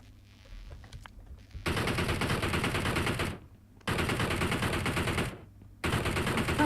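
Gunfire in the video game PUBG Mobile: three long, loud bursts of rapid automatic fire, each lasting roughly one and a half seconds, separated by short quieter gaps.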